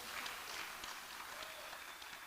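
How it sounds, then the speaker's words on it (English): Audience applause in a theatre at a fishermen's poetry evening, thanking the sound engineer: steady, even clapping from a seated crowd, fairly quiet and distant, sustained without a break. "Give him a big round of applause."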